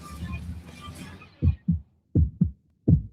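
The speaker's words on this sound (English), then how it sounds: "This is the sound of a healthy heart," A healthy human heartbeat thumps in close, deep lub-dub pairs, three steady beats with silence between them, following a brief fading wash of other sound.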